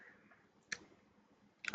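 Two sharp, quiet computer mouse clicks about a second apart over faint room hiss, opening a web browser.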